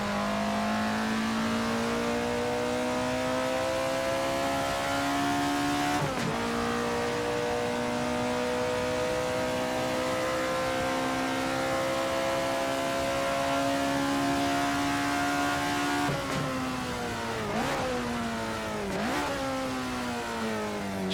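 An Alfa Romeo 33 Stradale racing engine in Assetto Corsa screams at high revs near 9,000 rpm in a long sustained whine, with a few brief dips as it shifts, loud and close.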